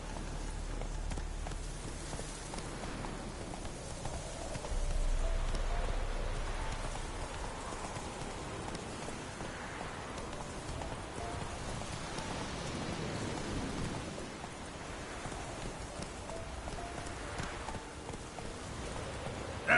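The horse Roach galloping through steady rain in a video game, with hooves drumming under a continuous hiss of rainfall and no one speaking.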